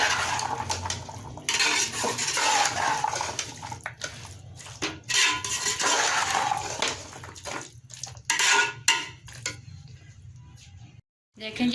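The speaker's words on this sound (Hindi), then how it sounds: "इसको 2 से 3 मिनट अच्छी तरह भुनाई करनी है हमें" Mixed vegetables stir-roasting in a pan: a steady, close sizzle with intermittent scraping and clatter from stirring, broken by a few short pauses and fading out near the end.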